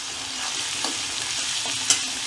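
Fenugreek leaves with salt being stirred and fried in a pan, a steady close sizzle with a few soft scraping clicks of the spoon, no voices.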